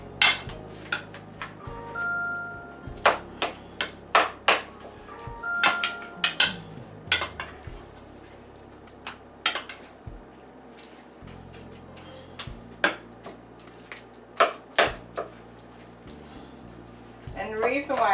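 A utensil breaks up raw ground beef for tacos in an air fryer oven, producing irregular sharp clinks and scrapes against the pan, with a person talking between the strikes.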